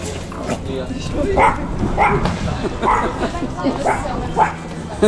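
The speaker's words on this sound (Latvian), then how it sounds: "Suns nu pats sāk ārdīties" A dog barking and agitated on a trip toward Austria, with repeated barks at roughly one-second intervals over a noisy outdoor background while people talk.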